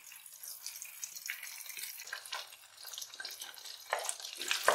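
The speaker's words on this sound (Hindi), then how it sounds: "गोल्डन कलर आने तक फ्राई करेंगे।" Aloo chop potato snacks frying in oil over low to medium heat, a steady close crackling sizzle with soft spoon-turning clinks, growing busier and louder toward the end, with no talking.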